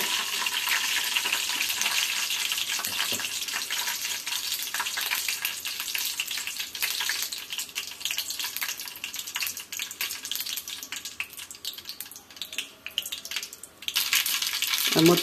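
Mustard seeds spluttering in hot oil for tempering dal, with a few drops of water in the pan, give a continuous close sizzle and crackle that runs for about fifteen seconds with no talking.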